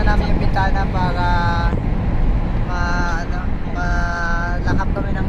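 Wind rushes through an open window of a long-distance travelling vehicle, a loud steady roar with engine rumble beneath, while people talk over it.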